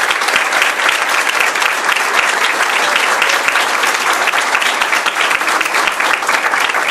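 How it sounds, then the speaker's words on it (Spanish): Strong, sustained audience applause at a political Loyalty Day gathering, dense steady clapping from a large crowd filling the whole stretch without pause. "Fuerte aplauso para él."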